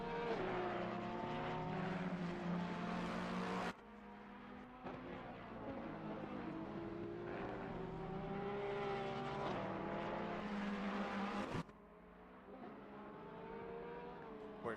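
GT4 and GT3 race car engines in a sim racing endurance event at the Hungaroring, including a Porsche, several engines droning and shifting pitch together as cars accelerate out of corners, steady and fairly loud with abrupt cuts between views.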